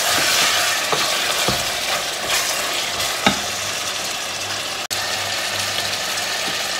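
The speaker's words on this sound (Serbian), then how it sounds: "I to ćemo isto malo propirjati, kako bi rekli, da dobije malo slast od tog luka" Chicken and onion pieces fry in a pan, a continuous close sizzle broken by occasional scrapes and taps of a utensil stirring, with no voices.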